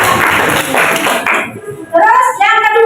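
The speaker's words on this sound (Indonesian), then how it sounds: "jadi tepuk tangan" Schoolchildren in a classroom clap together in a short, loud rhythmic burst lasting about a second and a half, followed by a voice speaking up close.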